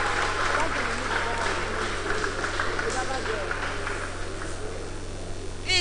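A youth forum audience claps in a continuous, dense round of applause filling the hall at steady loudness, with a faint voice underneath.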